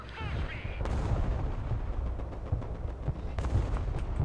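Artillery fire in the Broken Arrow war game: sharp booming reports and shots land at irregular intervals over a dense rumbling battle bed, with a voice heard faintly underneath.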